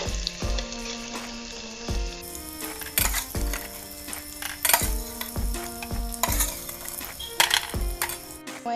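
Homemade paneer pieces fry in a pan with a steady sizzle, broken by repeated clinks and scrapes of a spatula turning them, close and fairly loud, with no talk.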